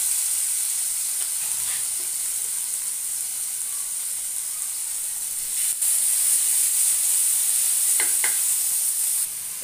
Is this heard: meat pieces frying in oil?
yes